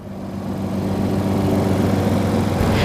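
A tractor engine runs steadily on a farm, a continuous low mechanical drone with a slight rise in loudness toward the end.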